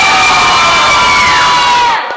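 A children's audience in a lesson setting cheers and shouts loudly all at once, a dense burst of excited young voices that holds for about two seconds, then fades out.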